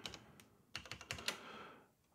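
A short burst of typing on a computer keyboard while entering a word into a text node in DaVinci Resolve 18: a few soft clicks, then a quick run of crisp keystrokes, close and fairly quiet, with no talk.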